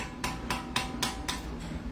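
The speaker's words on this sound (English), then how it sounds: "let me get the little hammer" A small hammer taps a metal stamping die to free it, giving five evenly spaced, sharp metallic knocks about a quarter second apart, close and clear over a steady background hum.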